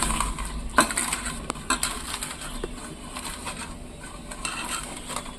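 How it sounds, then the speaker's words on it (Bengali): Fried dried chillies crushed with salt in a kitchen, producing scattered crunching, scraping and clinking taps against a dish, close and fairly quiet. "ভাজা শুকনো লঙ্কাটায় আমি একটু নুন ছড়িয়ে দিয়ে ভালো করে গুঁড়িয়ে নেব।"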